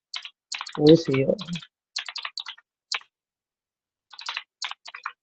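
Typing on a computer keyboard while entering a WooCommerce search: bursts of quick, close key clicks with a short pause, and a brief stretch of someone talking near the start.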